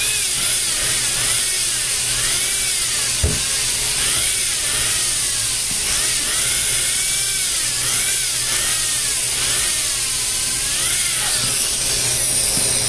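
A high-RPM dental handpiece polishes a porcelain crown chairside, giving a steady, shrill whine that wavers in pitch as pressure changes, with a brief thump partway through and no talking.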